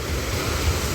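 Ocean waves wash in at the old port beach in Puducherry, a steady broadband surf roar with low rumbling swells and some wind across the microphone, with no voices.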